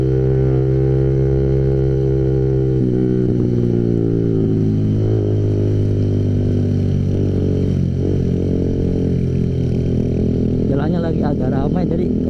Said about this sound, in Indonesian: Kita coba tarik gas di sini guys.